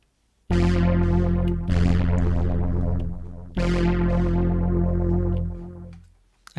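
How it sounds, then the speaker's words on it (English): A modular synth patch built in VCV Rack and triggered from a Digitakt plays three long, harmonically rich notes, each with a bright attack and sustained buzz, loud and alone before a short fade. "And on VCV Rack I have this synth that I put together"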